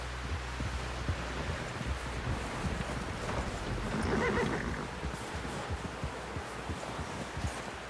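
A horse whinnies in the video game Red Dead Redemption 2 over a steady wind-like background hiss, with faint rustling and hoof-like thuds; no one speaks.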